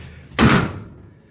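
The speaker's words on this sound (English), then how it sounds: "Shut these doors so I don't forget." Metal door on a corn dryer slams shut once, a loud, close, heavy clang with a short rumbling tail that fades over the next second.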